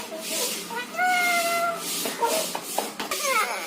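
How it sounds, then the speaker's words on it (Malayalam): A cat meows near a house where a pet parrot is kept. There are a couple of clear, drawn-out meows up close, with soft voices and household noise in the background. "ആ പൂച്ച വന്നു, പൂച്ച"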